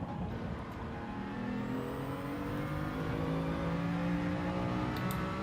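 A touring race car engine in Gran Turismo 7 at Mount Panorama, humming at a steady, moderate pitch that slowly rises as the car drives on, held below full revs, fairly quiet with no voices.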